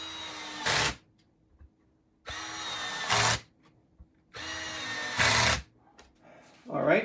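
A power drill drives number 3 screws into a Vingli Adirondack chair during assembly, in three separate bursts of whirring that each end in a louder final push, with short quiet gaps between them.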